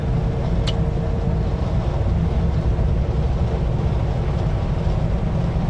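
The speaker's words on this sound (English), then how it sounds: "Pretty windy out" Steady, loud wind roar buffeting the microphone throughout, a continuous low rumble with no pauses and no voices, outdoors by a highway culvert near Smithers, British Columbia.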